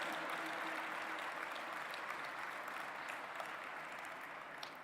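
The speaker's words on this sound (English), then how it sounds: "Thank you for a round of applause, dignitaries." Sustained audience applause fills a large dome hall at an interfaith summit, a steady dense wash of clapping that tapers slightly near the end.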